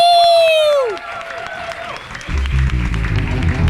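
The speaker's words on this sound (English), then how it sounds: "Let's give it a round of applause for each and every one of you" Brief comedy-roast audience applause and cheering after a shrill whistle-like sweep, with voices mixed in and a rumbling, noisy end.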